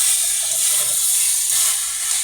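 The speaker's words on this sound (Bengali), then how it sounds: "এর মধ্যে আমি দিচ্ছি এখন বেশ খানিকটা টমেটো সস।" Boneless fried chicken with garlic hisses loudly in a hot pan as tomato sauce goes in, a dense, steady sizzle and steam with no talking.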